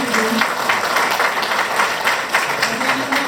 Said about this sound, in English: Clap your hands for Eva